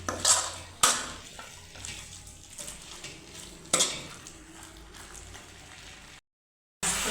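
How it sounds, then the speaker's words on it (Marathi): Chicken being stirred in a pot of ground masala during home cooking, with soft scraping and a gentle sizzle, punctuated by a few sharp clinks of a spoon against the pan. "थोड्या थोड्या वेळ आलेला पुन्हा असं हलवत राहायचं"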